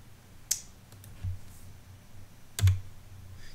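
Computer keyboard keys pressed during circuit simulator work, a few sparse, sharp clicks and taps close by in a quiet room, alone without talk.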